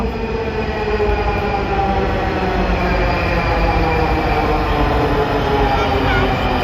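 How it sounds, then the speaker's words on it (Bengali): A metro train rumbles steadily close by, its continuous roar of wheels and motors filling the air with faint squeals, loud and unbroken. "ওই যে মেট্রো রেল আসছে"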